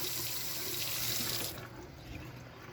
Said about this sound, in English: make sure the sink overflows with water